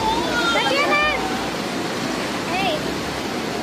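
The Curug Leuwi Hejo waterfall in Sentul rushes as a steady broadband roar. Children's and adults' voices call out over the continuous water noise.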